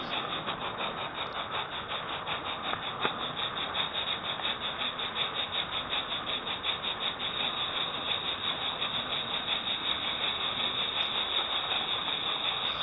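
A model train running around a home layout through a return loop, picked up by a camera riding on the train: a steady, close mechanical rumble with a faint wheel whine, unbroken throughout.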